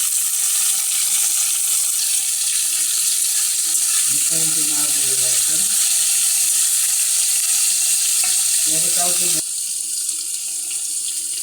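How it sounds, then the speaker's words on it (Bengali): Eggplant and onion hit hot oil tempered with radhuni and black cumin seeds in a pan. A loud, continuous sizzle and crackle runs throughout, with brief faint voice-like sounds partway through, before the noise drops slightly near the end. "এরপরে আমি বেগুন আর পেঁয়াজগুলো দিয়ে দিচ্ছি"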